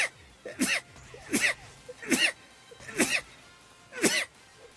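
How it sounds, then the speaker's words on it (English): A person live-streaming a game sneezes about five times, sharp loud bursts spaced roughly a second apart with quiet between them. "I'm low-key about to sneeze"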